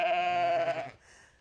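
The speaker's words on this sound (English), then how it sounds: "So they're Katahdin hair sheep." A Katahdin hair sheep gives one sustained, strongly harmonic bleat lasting nearly a second, close and loud, then cuts off into quiet barnyard background.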